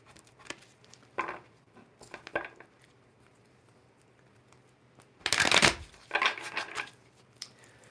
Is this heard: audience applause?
no